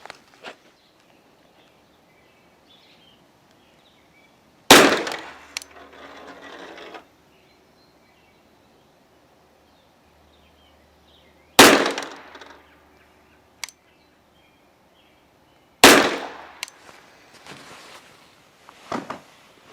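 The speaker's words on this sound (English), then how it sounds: "First up are 3 rounds of that Federal 230 grain FMJ ammunition." Three gunshots from a Mech Tech CCU carbine with a 16¼ inch barrel firing Federal 230 grain FMJ rounds, each a loud, sharp crack with a short ringing decay, spaced several seconds apart outdoors, no talk.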